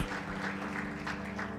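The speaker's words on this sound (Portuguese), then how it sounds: "Vamos dar uma salva de palmas para os nossos visitantes." A church congregation claps to welcome first-time visitors, a brief burst of steady, dense applause over a low sustained hum.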